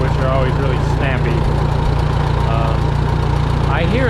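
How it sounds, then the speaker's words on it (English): The engine of a 1949 JI Case LA tractor runs at a steady, loud idle with a low, even chug. A person talks over it at times. "The engine sounds good"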